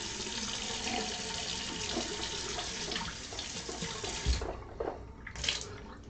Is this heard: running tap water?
yes